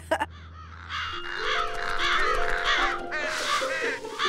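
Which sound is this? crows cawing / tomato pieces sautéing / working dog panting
crows cawing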